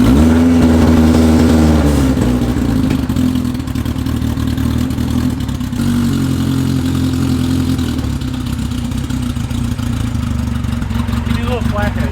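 Drift car powered by a streetbike engine running and revving, with a steady rising and falling mid-pitched engine note that dips and climbs again, loud and near, with people talking over it.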